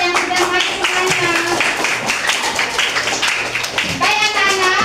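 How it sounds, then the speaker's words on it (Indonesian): Fifth-grade children in an elementary classroom at SDN 18 Mataram clap together for a group, a busy patter of small hands under lively voices and chatter throughout. "Kita beri tepuk tangan dulu buat kelompok yang sudah maju semuanya."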